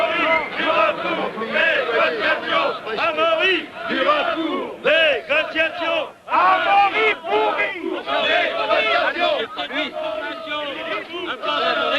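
A dense crowd of demonstrators at the 1976 Paris-Roubaix race cheers and shouts continuously, loud and close, a sustained wall of overlapping voices with no single speaker standing out.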